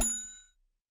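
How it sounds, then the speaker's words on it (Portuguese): A single bright notification bell chime rings once and fades out within half a second, with no voices. "ative o sininho para receber as notificações"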